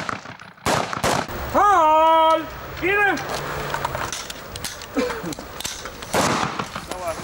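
Home Guard rifles crack in a few sharp reports at an outdoor shooting range, with a shouted command and voices around them; the shots stand out loudly near the start and trail off into quieter range noise.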